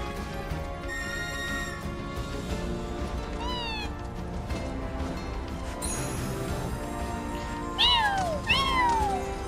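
A cat meows several times inside the video game Final Fantasy VII Rebirth, with short rising and falling cries, the loudest pair near the end, over a steady layer of game music and ambience.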